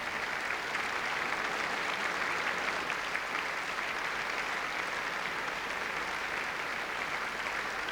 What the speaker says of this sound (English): An affectionate standing ovation